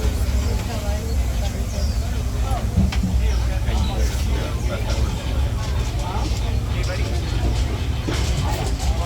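The Disneyland Railroad train, behind the Ernest S. Marsh locomotive, rumbles along the tracks, a loud continuous low rolling drone with rattles and clanks, while people talk over it.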